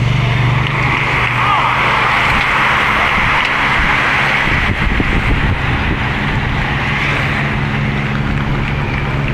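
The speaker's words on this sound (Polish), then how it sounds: "Powiem, że strasznie dużo" Heavy road traffic streams past at a Tour de Pologne stage, a dense, continuous rush of many cars with a low rumble and a swelling pass midway, someone talking over it.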